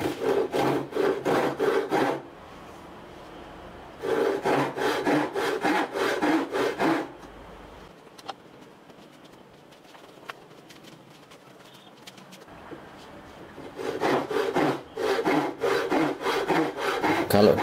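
A small, light Hasston hand saw cuts through wood in three bursts of rapid, rhythmic rasping strokes, close and loud, separated by quiet pauses with faint knocks.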